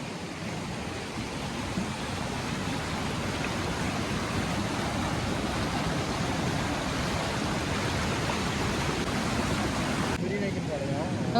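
Water rushes in a steady, broadband roar, like a strong nearby stream or cascade in a village, with voices faintly mixed in.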